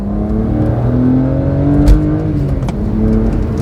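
The six-cylinder engine of a BMW 130i hatchback drones loudly from inside the cabin while driving, a steady hum that rises as the car accelerates, with a brief thump partway through and no speech.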